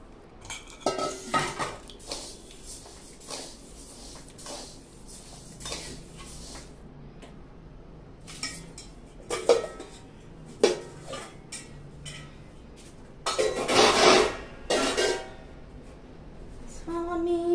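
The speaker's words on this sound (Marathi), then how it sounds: "बाजरी पण तशीच खमंग भाजून घेऊया आपण." Bajra millet being dry roasted in a pan for thalipeeth bhajani flour, with intermittent metallic clinks and scrapes of a spoon against the pan, light stirring rustles between, fairly close and moderately loud.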